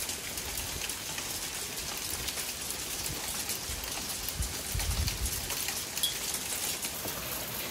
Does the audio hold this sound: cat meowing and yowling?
no